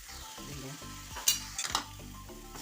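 Spice paste for banana flower thoran frying in a pan while being stirred, giving a steady close sizzle with scraping strokes and a few sharp metallic clinks of the spoon against the pan.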